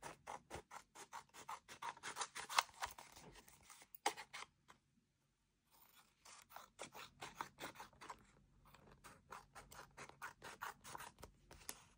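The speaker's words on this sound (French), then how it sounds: "je vais découper avec un ciseau" Scissors snip around the outline of a paper card in quick, close, rhythmic cuts that stop for about two seconds and then resume at the same brisk pace.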